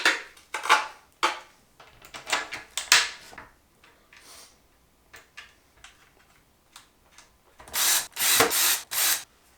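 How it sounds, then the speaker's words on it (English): Bolts being fastened back into a board, heard as a string of sharp, close ratcheting and tool clicks in short bursts, ending with a louder run of rapid, gritty taps, with no talk. "Put the bolts back in now."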